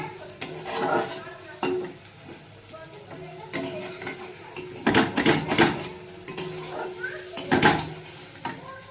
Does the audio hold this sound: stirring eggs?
yes